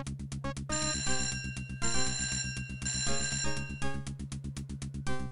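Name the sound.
telephone ringing in Simon the Sorcerer video game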